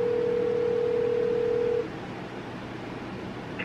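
A phone call rings before going to voicemail: one steady ringback tone lasting almost two seconds, then a quieter line hiss.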